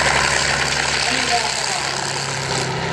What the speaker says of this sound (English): the leading vehicle, which is an Su-100 Soviet self-propelled gun